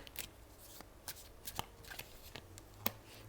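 Tarot cards are shuffled by hand at close range, giving quiet, soft riffles and sharp card snaps at irregular intervals.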